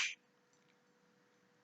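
A single crisp finger snap during a Hindu ritual recitation, close and clear at the very start, followed by near silence.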